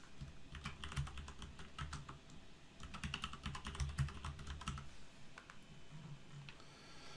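Fast, steady clicking of a computer keyboard being typed on, close and fairly quiet, running continuously with short pauses and no speech.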